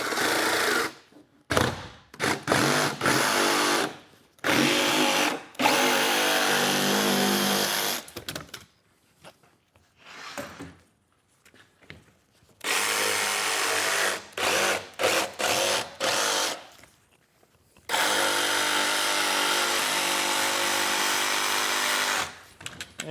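A jigsaw fitted with an aggressive blade saws through Baltic birch plywood. The buzzing cuts come in repeated bursts of one to several seconds, split by short pauses, and the saw is loud and close.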